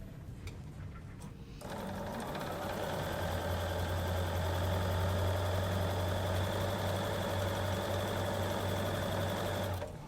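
A sewing machine stitches a quilt seam in a steady, continuous whir after a brief start, running close and evenly for several seconds with no talking.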